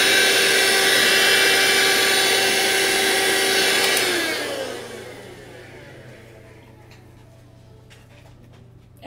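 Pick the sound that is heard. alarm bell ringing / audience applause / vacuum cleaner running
vacuum cleaner running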